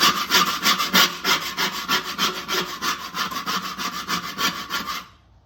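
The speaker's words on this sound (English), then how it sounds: "All right, we'll use our scraper here." A scraper rasps back and forth across a BBQ grill surface in quick, even strokes, loud and close, stopping abruptly near the end.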